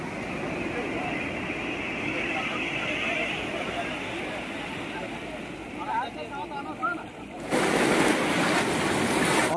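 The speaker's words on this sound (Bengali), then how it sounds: "চলে এসেছি গঙ্গাসাগর সি বিচে" Ocean surf at Gangasagar sea beach rolls continuously with steady wash and broadband roar, growing louder near the end, with a crowd murmuring in the background.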